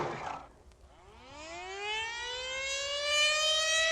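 Noon siren at Lackland Air Force Base, a civil defense siren winding up from low to a loud, sustained rising wail with strong harmonics, heard alone with no talk.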